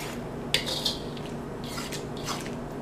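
Hot water stirred in a bowl while making bread dough: a spoon clinks and scrapes against the bowl a few times, with soft swirling and faint sloshing in a quiet kitchen.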